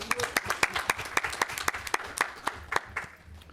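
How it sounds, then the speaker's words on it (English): A small group at a community retreat claps for a few seconds, with distinct, fairly sparse hand claps ringing out in an indoor room, moderately loud and close. "I think that deserves a big round of applause"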